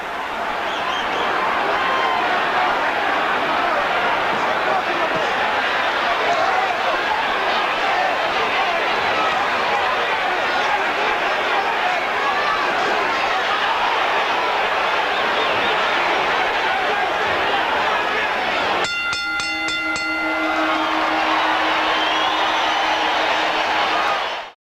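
Boxing arena crowd roaring continuously after Larry Holmes knocks down Jerry Cooney in their June 1982 heavyweight fight, a loud sustained wash of cheering, with a bell-like ringing tone near the end.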